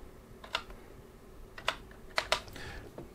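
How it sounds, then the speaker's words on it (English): A computer keyboard is typed on in a few scattered, fairly faint keystrokes over a low background hiss, with no talking. "So let's type in Ryzen 5, and it's actually a 2600."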